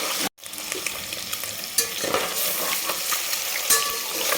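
Potatoes frying in oil in a pan for egg biryani, a steady bright sizzle with stirring scrapes and soft clinks, close and continuous, with one brief dropout near the start.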